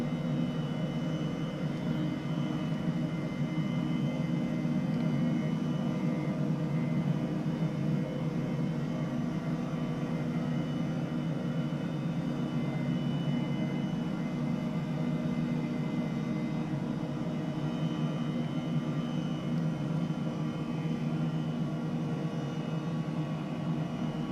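A simulated Airbus H135 helicopter settles onto a helipad in Microsoft Flight Simulator, its turbine and rotor a steady, dense whine and roar that holds evenly throughout, with no talk.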